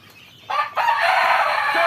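A rooster crows close by inside a chicken coop: a short burst, a brief dip, then one long loud sustained crow.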